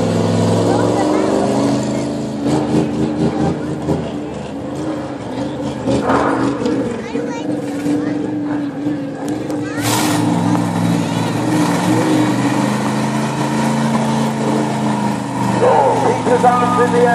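Monster truck engines roar and rev at a fire engine rally at Preston Park, with loud surging throttle bursts over a constant rumble and a commentator talking over the noise throughout.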